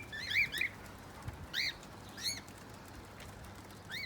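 A pet cockatiel gives short, bright chirping calls in separated bursts, with light wing flutters between them, fairly faint against quiet background hum.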